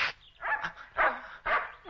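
A dog in an animated adventure gives three or four short barks and yips close by, with a continuous background bed underneath.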